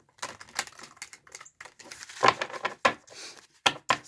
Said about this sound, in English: give it a couple shuffles here.